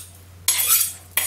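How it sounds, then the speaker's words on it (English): A kitchen knife is honed on a steel in two quick bright metallic swipes, close and crisp, over a faint low hum. "Now the first thing I'm going to do is hone my knife a little bit,"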